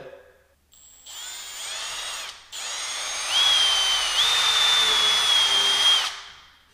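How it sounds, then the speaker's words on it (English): A power drill whirs in several steady runs, its high-pitched motor rising and dipping as it bores pilot holes into a door for a pocket door lock, close and loud with no talking. "I'm drilling these pilot holes"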